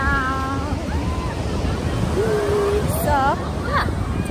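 Steady ocean surf and gusting wind at Camps Bay Beach roar continuously and fairly loud, with voices talking over the wash of the waves.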